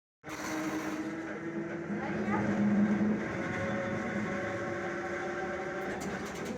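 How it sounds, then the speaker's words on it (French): An old New Orleans cable car streetcar rolls along with a steady, close rumble of wheels and car body, a brief louder grinding swell in the middle, and people talking quietly aboard. "on va du coup prendre le cable car, tu sais le petit tramway, c'est un espèce de vieux tramway"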